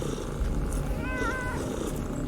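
Cats in the video game Underrail, a short tonal meow-like call over a steady, dense game ambience, mid-distance and moderately loud, with no talk.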